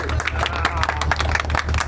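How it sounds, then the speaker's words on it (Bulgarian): Crowd applause for the captain at a combined prom and 19th birthday party, dense steady clapping filling the whole stretch with voices mixed in. "Аплодисменти!"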